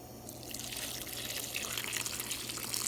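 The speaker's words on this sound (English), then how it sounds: "Then we add our broth." Broth pours into a cooking pot in a kitchen, a continuous splashing, gurgling rush of liquid that stays close and fairly loud, growing slightly fuller over a few seconds with no voices.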